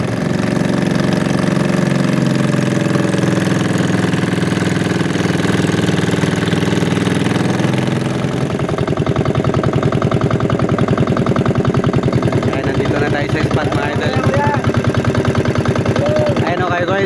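A motorized bangka boat engine runs loud and close, starting with a steady low drone that shifts to a rougher, faster-pulsing chug about halfway through, with voices faintly underneath.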